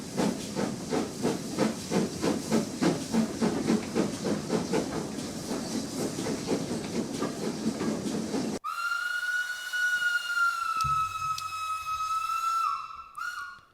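A steam train, the Hogwarts Express, chuffs in rapid rhythmic bursts of hissing steam, then a long, loud steam whistle sounds over a quieter hiss before fading.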